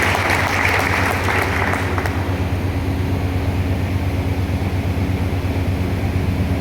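A large audience at a Safe Shop business function claps in a continuous dense roar of applause, loud and close, fading slightly after the first couple of seconds.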